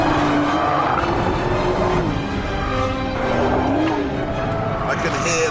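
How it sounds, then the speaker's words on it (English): Nissan Skyline GT-R R35 with a 500-horsepower engine being driven hard on a track, tyres squealing in a wavering high whine over a loud, steady engine roar, with someone talking over it. "The tyres squealing now."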